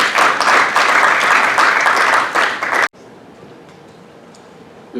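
Audience clapping at the Africa Energy Summit 2025 in Ghana, a dense burst of applause lasting under three seconds that cuts off abruptly, leaving a quiet room.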